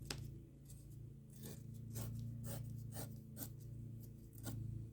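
Scissors snip and trim a scrap of craft paper for a collage, a series of short crisp cuts and rustles heard close up over a low steady hum.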